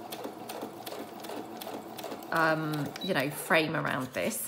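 A sewing machine stitches a frame around a junk journal label in short quick runs of rapid clattering stitches, close up, while someone talks over it.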